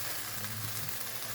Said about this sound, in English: I'm going to continue to stir